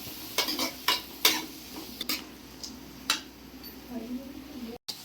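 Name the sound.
onions and curry leaves sautéing in a pan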